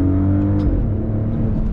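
A 2022 Maserati Ghibli Modena accelerating on throttle, with loud close engine and exhaust tone and a gear change partway through, no talking.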